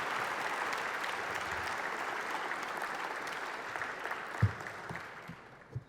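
An audience applauding at a talk to welcome a speaker, Steve Coll, a steady wash of clapping that goes on throughout and thins out toward the end.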